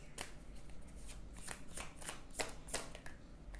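Tarot cards being shuffled and drawn from the deck, a close run of soft riffling flicks and papery snaps that comes in quick bursts and stays quiet and steady without any talk.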